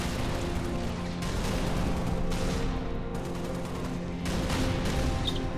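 Dense sustained gunfire from the Halo video game rattles in long overlapping bursts, loud and continuous, with brief dips between volleys.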